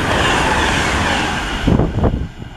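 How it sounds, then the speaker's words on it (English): A Class 390 Pendolino train roars past at speed at a station, a loud, dense rush that drops away near the end into a few wheel clacks. "It's a class 390 Pendolino."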